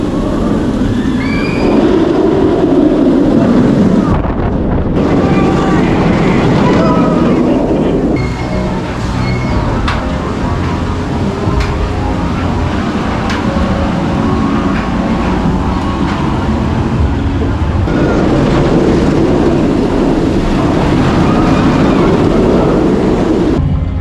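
Night ride on the Nemesis roller coaster at Alton Towers: a loud, continuous rumble and roar of the train on the track with rushing wind, shifting in intensity, and voices mixed in throughout.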